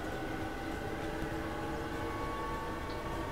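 Steady rumbling of a freight train rolling along a rail line in the Transport Fever video game, a continuous low mechanical drone at fairly low level with no talking.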